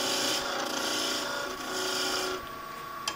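A wooden tool handle is turned down to a smaller diameter by hand on a lathe, giving a close, continuous scraping and rasping of the cutting edge on the spinning wood, easing briefly midway before settling quieter near the end.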